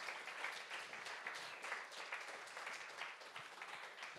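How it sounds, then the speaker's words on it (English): An audience at an evening tech meetup claps for the speakers, a quiet, steady patter of hands that holds at an even level throughout without speech. "Warm applause."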